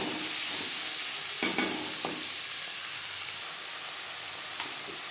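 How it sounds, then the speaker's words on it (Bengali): Four onions and four small tomatoes fry in a pan for a Bengali doi pabda fish dish, giving a loud hissing sizzle with a couple of sharp utensil knocks and stirring scrapes early on. "এখানে আমি চারটে পেঁয়াজ ও ছোটো সাইজের চারটে টমেটো অ্যাড করলাম"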